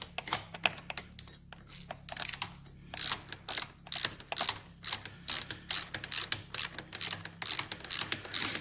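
A ratchet wrench tightens the front fork of a 1971 Triumph Tiger 650cc motorcycle, with quick bursts of sharp, close metallic clicks repeating in a steady back-and-forth rhythm throughout.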